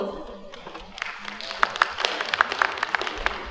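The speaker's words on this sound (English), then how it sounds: "Big round of applause." Audience applause at a professional development event, with scattered hand claps building into a thin, uneven round under a murmur of crowd noise, moderately close.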